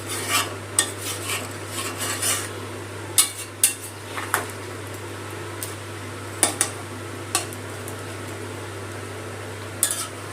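Chicken pieces, spices and water being stirred in a cooking pot, with scattered clinks and scrapes of the spoon against the pot over a steady low hum, no talking.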